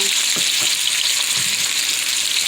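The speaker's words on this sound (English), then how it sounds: "I got my red skin potatoes cut and going in the fryer" Red skin potatoes fry in hot oil in a fryer, giving a steady, dense sizzle with small crackles and pops. No one speaks.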